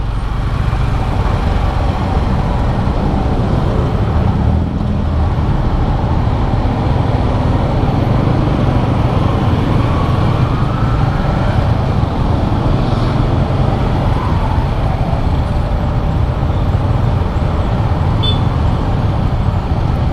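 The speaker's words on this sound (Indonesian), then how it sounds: "Wah ini sih macetnya lumayan parah ini" Heavy, congested city traffic near Noyo, with cars and buses creeping along, heard from a Yamaha XSR155 motorcycle: a steady, loud, dense rumble of engines and road noise that stays constant throughout with no talking.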